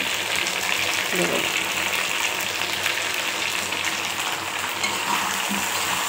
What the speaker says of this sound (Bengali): পেঁয়াজ আর আদা রসুনটা দিয়ে বন্ধুরা আমি ভালো করে এটাকে ভাজা ভাজা করে নেবো।